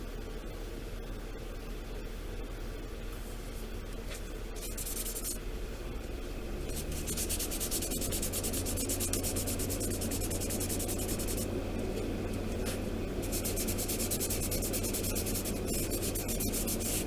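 Seams on a Pegasus Hobbies War of the Worlds war machine model kit are sanded by hand, a close, continuous hissing rub with repeated back-and-forth strokes over steady background hum, with no voices.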